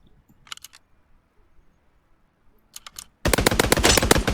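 Gunfire from an assault rifle in the PUBG video game: a couple of short sharp bursts, then a loud sustained volley of rapid shots to the end.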